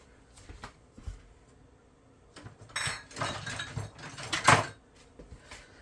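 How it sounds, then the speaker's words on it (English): Broth, water and seasoning powders being stirred in a crockpot, a spoon clinking and scraping against the pot in a few scattered bursts that build toward a louder clatter near the end. "let's just stir that"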